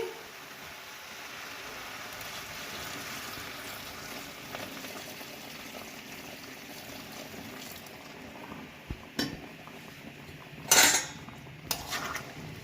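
A spoon clinks and scrapes inside a metal pot of mutton, followed by a short splashing pour of hot water near the end.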